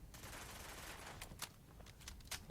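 Gunfire in the video game Fallout 4 during a fight with raiders: a faint, distant burst of rapid shots amid crackling noise, with a few sharper cracks standing out near the end.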